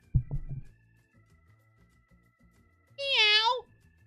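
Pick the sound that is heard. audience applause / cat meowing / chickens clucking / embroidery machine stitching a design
cat meowing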